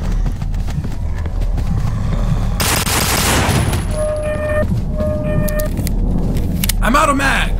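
Gunfire in the zombie game No More Room in Hell: bursts of rapid shots over steady game noise, loud and close, with a voice talking over it.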